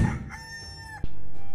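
A rooster crows once in a clear, drawn-out cock-a-doodle-doo, followed by a sudden loud burst of noise that cuts in at the end.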